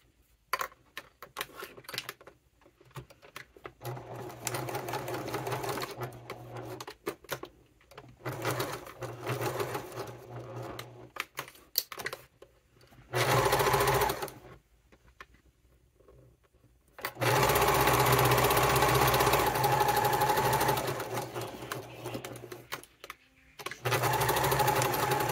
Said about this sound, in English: And I'm going to sew around 3 sides, leaving one of these long edges open.